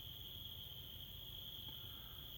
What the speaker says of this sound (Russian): Ну и сверчит все, жужжит.